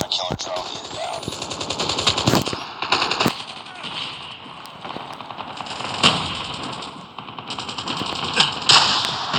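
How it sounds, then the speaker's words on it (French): Machine gun fire in Call of Duty rattles in rapid bursts through most of the stretch, loud and close, mixed with game effects and occasional voices in the background. "Une mitraillette, hein, super."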